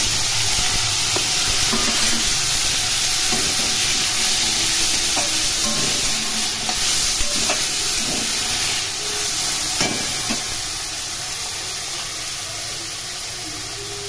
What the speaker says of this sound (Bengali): আলু ভাজা হয়ে গেছে, এখন এর মধ্যে কাঁকরোলগুলো দিয়ে দিলাম।